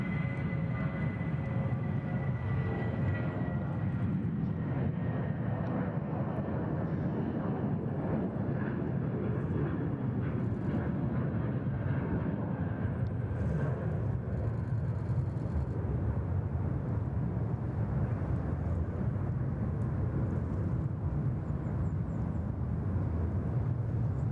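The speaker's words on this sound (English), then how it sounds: "we've got a Jetstar on the roll here" A Jetstar airliner rolls down the runway for takeoff at Sydney Airport, its jet engines building into a loud, sustained roar with a rising whine, heard from a distance and growing steadily over a long stretch.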